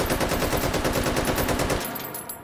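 Automatic fire from an AKM rifle in the H3VR virtual reality shooting game: a steady, loud burst of rapid shots at a fairly slow cyclic rate for nearly two seconds, then a fading echo tail.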